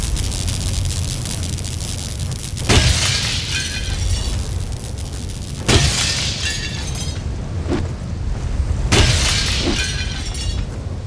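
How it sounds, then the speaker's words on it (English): Window glass smashed in the firefighting game Real Heroes: Firefighter, with three loud shattering crashes spaced a few seconds apart over a steady roaring fire-and-noise background. "Knock out those windows on the second floor, too."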